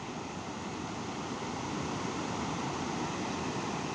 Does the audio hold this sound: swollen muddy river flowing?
yes